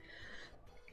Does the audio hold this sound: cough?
yes